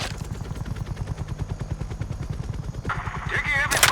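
Heavy automatic gunfire in Call of Duty: Black Ops Cold War, a rapid steady rattle of shots throughout, with a sharper burst of noise near the end, in a battle scene.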